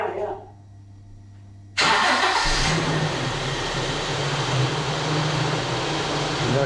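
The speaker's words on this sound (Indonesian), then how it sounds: "Starter mobilnya" An old car engine cranks and catches at once, a loud sudden burst that settles into a steady close rumble with hiss, preceded by a quiet idle with a faint voice.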